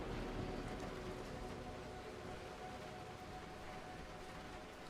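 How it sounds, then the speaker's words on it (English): Steady in-game rain from the video game Dying Light The Beast hisses evenly throughout, a soft constant downpour with no talking. "This is actually my first time seeing the game's in-game rain effects."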